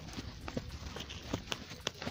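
Horse hooves clip-clop at a walk while the horse is ridden outdoors, a handful of soft, irregular hoof strikes heard close against a muffled background.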